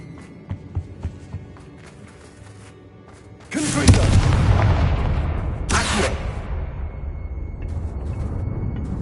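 A Confringo blasting spell erupts in the Hogwarts Legacy video game as a sudden loud boom with a rumbling decay, followed by a second sharp burst and a lingering low roar.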